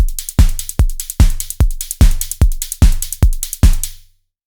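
Digital drum sequence built from Bitwig drum modules, a loud, steady pattern of punchy kicks with bright hi-hat and snare hits, about ten even beats ending in a clean stop, with no talking.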